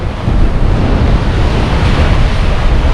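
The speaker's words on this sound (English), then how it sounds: "You can hear the wind howling." Strong wind roars across the Storms River suspension bridge in South Africa, a loud, steady, buffeting rush with deep low rumble close to the microphone and no talking.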